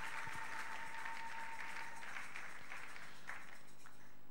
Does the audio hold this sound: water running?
no